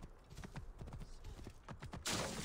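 Horse hooves clip-clop in Assassin's Creed Origins, a steady run of hoof strikes, close and fairly loud, joined near the end by a sudden broad burst of noise.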